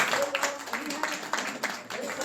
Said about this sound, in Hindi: कमल साहब के लिए ताली बजा दीजिएगा।